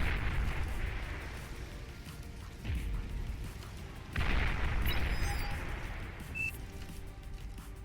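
Zar units firing in the Beyond All Reason strategy game produce heavy booming shots over a dense rumbling battle din, with stronger blasts landing at intervals.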